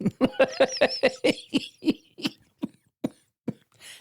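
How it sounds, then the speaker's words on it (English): A run of harsh, hacking coughs, about a dozen in a row, loud at first and then spacing out and fading. "This cough, it's been like 6 months."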